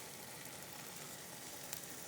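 Mushrooms sear in a hot pan, giving a steady, faint, even sizzle with no pauses and one small tick near the end.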